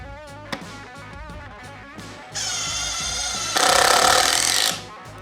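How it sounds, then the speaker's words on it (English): A Makita impact driver sinks a 3-inch screw into wood: a steady motor hum builds into a loud, continuous rapid hammering burst that steps up in intensity before cutting off, close by with no talking. "that auto feature sensed that we were going to need more oomph to drive that 3-inch screw fully"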